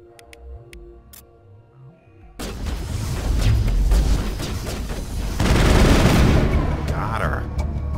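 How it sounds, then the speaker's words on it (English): Dense, sustained gunfire and booming impacts in the Mass Effect video game, a continuous roaring barrage that swells louder midway, following a quieter stretch of faint clicks and game sounds. "is somebody else out here who was shooting me?"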